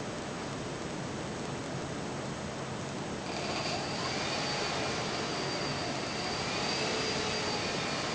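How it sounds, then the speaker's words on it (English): Hexacopter motors spinning on the bench during a motor test, a steady broadband whirring drone that holds throughout and grows slightly brighter partway through, with no talk. "while we're running the motors"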